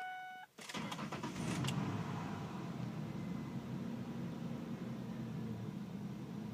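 A cold pickup truck engine with 200,000 miles cranks and catches with a brief whirring start, then settles into a steady, fairly loud idle that continues evenly.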